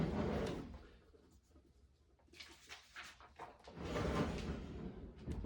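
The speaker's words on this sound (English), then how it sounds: "I have to open the drawer." A desk drawer slides open and is rummaged through, producing two loud, close rumbling scrapes separated by a quieter stretch of light rattling.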